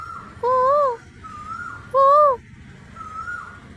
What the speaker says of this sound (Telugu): మార్నింగ్ అన్ని బర్డ్స్ సౌండ్ వినబడుతుంది